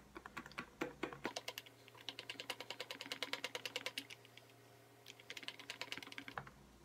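Pink colorant being whisked into soap batter for a raspberry lemonade scented soap, giving rapid rhythmic clicking and tapping of a whisk against the container in bursts, close and fairly loud, with a steady low hum underneath and no talking.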